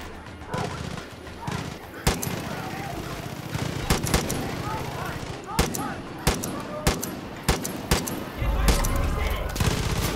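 Gunshots in Far Cry 5, a series of loud, sharp reports spaced a second or two apart, with quieter firing and someone talking in between.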